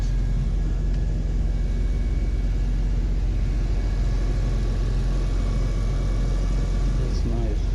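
A BMW E46 M3 engine runs close by with a steady, deep rumble and a constant drone, holding a fairly even pitch for most of the stretch, with a small change near the end.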